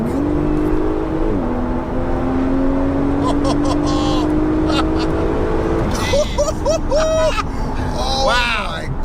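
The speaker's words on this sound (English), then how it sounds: "Let's go for a second gear pull." A 750hp Porsche 911 Turbo S pulls hard in second gear, its engine note climbing steadily in a loud, continuous rise before a gear change, with excited talk from the cabin running over it.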